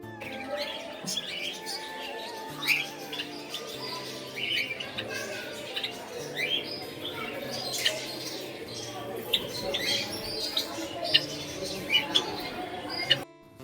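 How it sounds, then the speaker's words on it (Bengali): Many caged birds, parrots among them, chirp and squawk constantly at a temple-town aviary in Puri, a dense, lively chorus of overlapping calls with sharper squawks rising now and then. "আর পাখিগুলো যে ডাকাডাকি করছিল"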